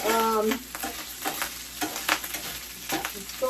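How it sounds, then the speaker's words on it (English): Butter and flour cooking together in a pan as a roux, with soft frying sizzle broken by intermittent scraping stir strokes, close and moderately loud. "melt a little butter in a pan, and then sprinkle flour and cook it"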